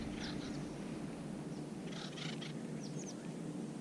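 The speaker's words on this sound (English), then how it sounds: "woodpeckers are talking and being social and banging away and knocking on the trees" Acorn woodpeckers calling in a wooded setting, with scattered chattering bursts at moderate distance over a steady low background hum; knocking on trees is not clearly distinct.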